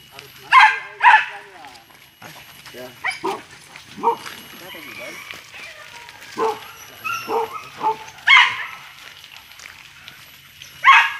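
Hunting dogs bark and yip in several sharp bursts during a wild boar hunt along the Ranyah River in Rao, with people talking over and between the barks.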